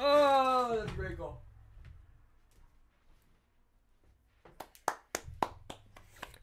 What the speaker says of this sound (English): Even I got to clap for that.